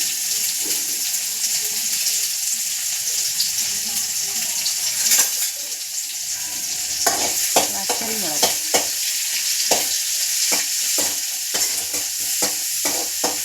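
Onions fry in a pan with a loud, close, continuous sizzle, broken by a string of sharp crackles and scraping knocks as they are stirred.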